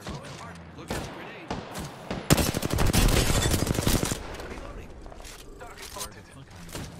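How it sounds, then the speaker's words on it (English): Rapid automatic gunfire in Apex Legends, a dense burst of loud shots in the middle with scattered single shots and thumps before and after, under voice chat. "Opening fire on the enemy."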